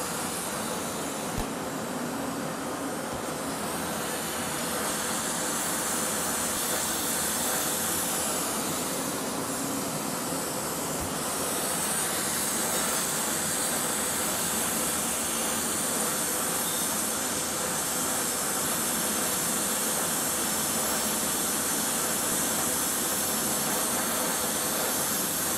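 A torch flame roars steadily while heating glass for a glassblown cup, a loud, close, continuous broadband hiss that holds level throughout with no talk.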